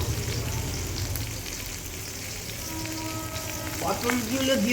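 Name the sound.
pointed gourd (potol) frying in oil with salt and turmeric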